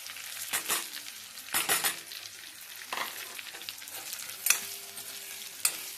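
Stuffed eggplant masala frying in a pan is stirred with a spoon in several separate scraping, sizzling strokes, each a short burst with quiet gaps, close and fairly soft.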